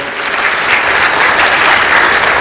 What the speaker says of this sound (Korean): 다 같이 마지막으로 큰 박수